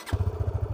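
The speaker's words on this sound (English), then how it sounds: "So I'll just turn the engine on," A Yamaha FZ25 motorcycle engine fires and settles straight into a steady, rapid low thumping idle, close and fairly loud, with no talking.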